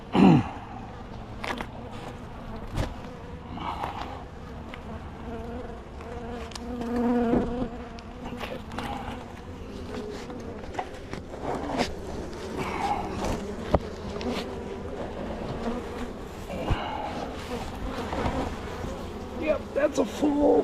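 Honey bees buzz in a steady, close hum while a hive is opened and inspected, with scattered knocks and clicks from handling frames and quiet voices talking underneath.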